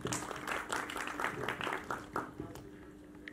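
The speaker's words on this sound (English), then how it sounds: "One round of applause for all these dignitaries." An audience at an award ceremony applauds the dignitaries with moderately faint, uneven clapping, scattered individual claps standing out over a low hum, with no talk.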